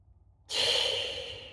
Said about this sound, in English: take a nice deep breath in and out for me